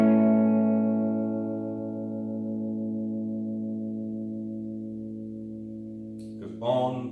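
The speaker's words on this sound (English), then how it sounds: "Goes on and on and on and on. And the Bixby produces that lovely shimmer" A single chord rings out on an Epiphone Bonamassa 355 semi-hollow electric guitar with a Bigsby vibrato, sustaining for about six seconds and slowly fading, with a brief noise at the very end.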